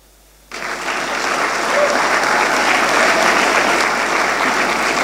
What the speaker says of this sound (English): Please continue clapping for her.